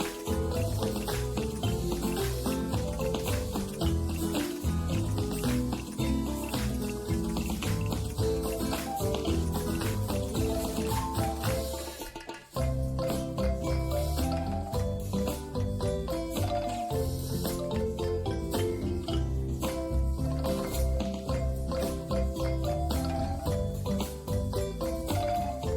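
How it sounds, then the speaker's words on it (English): Plain water runs steadily from a tap while potato slices are rinsed for pakoras, a continuous splashing flow with a brief break midway, fairly close and alone without talk. "Rinse the potato slices 2 times with plain water."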